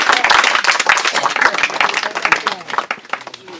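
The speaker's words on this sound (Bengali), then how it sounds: "আরেকটা করতালি।" Hand clapping from an audience after a locally performed drama, dense and fairly loud at first and then thinning and fading over a few seconds.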